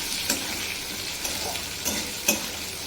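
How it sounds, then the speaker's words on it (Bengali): Boiled potatoes fry in hot oil with asafoetida, a steady close sizzle broken by a few sharp stirring clicks of a utensil against the pan. "এটা ভেজে নেব।"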